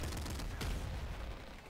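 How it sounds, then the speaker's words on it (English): The triple machine gun fires in the video game Nuclear Throne: a dense, continuous rattle of rapid shots, fairly faint and steady for the whole stretch, with no voice over it. "triple machine gun better."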